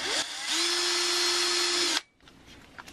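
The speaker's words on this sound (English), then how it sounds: "So I'm using a drill bit to get through that metal." A power drill bit bores through a metal mounting plate for a micro hydro electronics install, a steady high whine lasting under two seconds before cutting off abruptly, close and alone.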